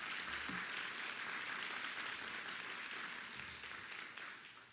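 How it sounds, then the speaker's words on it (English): Audience applause fills a campus forum hall, a steady wash of many hands clapping that holds for several seconds before tapering off slightly at the end. "Let's give them our applause."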